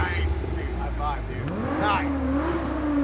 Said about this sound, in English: We had Santiago jump in, fire it up, bounce it off the launch control there